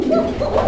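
A pair of pigeons coo in low, soft, rolling murmurs, close and fairly loud, a couple of short throaty calls with no talking.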